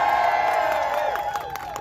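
A rally crowd cheers and whoops, a loud, sustained wash of voices and shouting that holds for a couple of seconds and then eases slightly.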